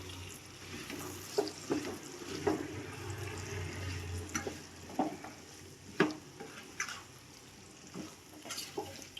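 Bottle gourd curry is stirred in a pan, with soft scraping strokes and faint sizzling repeating every second or so over a low steady hum.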